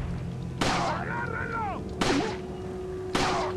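Three sharp gunshots ring out from a Resident Evil 4 village fight against Ganados, each a loud broadband crack followed by a ringing tail and bright metallic whine, spaced about a second and a half apart over a low background hum.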